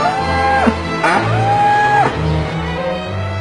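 A cow moos repeatedly and loudly, close by, in a farm setting, likely a dairy cow calling out. Several long, drawn-out bellows rise and fall, one after another, with a steady low rumble underneath and no talking.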